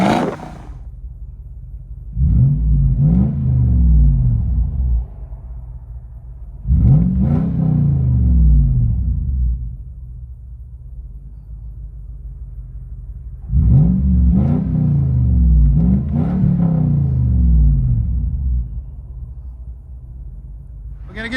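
Heard from inside the cabin, a 2004 Toyota 4Runner's 4.7L V8 on straight pipes booms through four heavy rev bursts, each rising and sweeping back down, with a deep rumbling idle filling the pauses.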